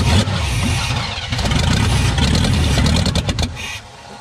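An old fuel-injected drivetrain that sat for over ten years with a large rat nest in it cranks with a loud, close, rough low rumble, the sound surging and churning before dropping off at the end.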